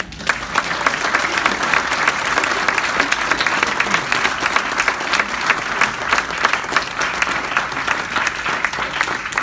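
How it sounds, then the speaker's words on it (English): Sustained applause from an audience at the end of a debate, dense steady clapping for several seconds with no talk over it. "Everybody can clap for both people."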